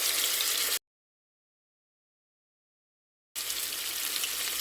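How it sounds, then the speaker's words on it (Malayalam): Karimeen fish frying in coconut oil with curry leaves gives a steady, close, hissing sizzle that cuts out to complete silence for a few seconds and then resumes just as strongly, with no talking. "ഇനി അതിൻ്റെ മുകളിലോട്ട് നമുക്ക് ഈ മീൻ വറുത്തെടുക്കാം"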